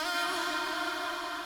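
A heavily driven, distorted vocal sample in a techno production, given echo and a shimmer effect, rings as a dense, bright sustained wash with no low end, steady and loud throughout.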